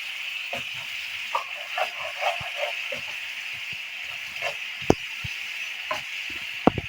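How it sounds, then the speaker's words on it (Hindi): Spices and yogurt fry in a pan for Indian-style egg bhurji, a steady hiss running throughout with scattered clicks and taps of a spoon against the pan, fairly close. "1 चम्मच या 2 चम्मच जो है हम दही के शामिल कर देंगे। ताकि मसाले हमारे अच्छी तरह से भुन जाए।"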